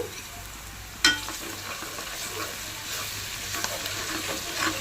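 Ginger garlic paste fries in hot oil, a steady close sizzle with spitting crackles, opening with a sharp spoon clink and continuing with scraping stirs over a low hum, no speech.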